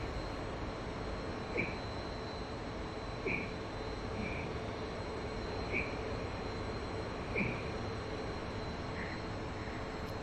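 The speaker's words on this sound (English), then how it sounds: "It really has transformed the sound inside the SU-27 cockpit and improved that level of immersion" Cockpit of an Su-27 fighter jet in a flight simulator during an air festival display: a steady, muffled engine roar drones throughout, with faint periodic chirping tones over it.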